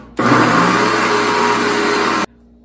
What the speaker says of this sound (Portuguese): Terminei de bater. O liquidificador tá até quente.